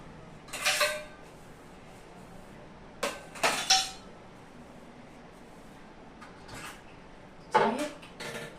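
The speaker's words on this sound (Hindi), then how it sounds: "सारे बर्तन में मैं धोकर उसके जगह पे सेट कर देती हूँ।" Pots, plates and utensils clink and clatter in a home kitchen as dishes are washed and put away, with a few separate bursts of metallic knocks spaced by quiet pauses.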